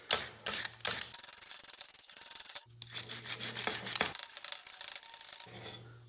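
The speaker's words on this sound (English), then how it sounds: "Get the worst of this rust off the threads." Rust being scrubbed off bolt threads from a 1980 Toyota pickup strut rod, harsh rasping strokes in several bursts with short gaps between them, close and fairly loud with a faint hum underneath.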